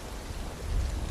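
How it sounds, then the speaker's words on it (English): Steady rain hiss in the video game Final Fantasy VII Rebirth with a low rumble underneath, growing slightly louder toward the end, with no voices. "Rain?"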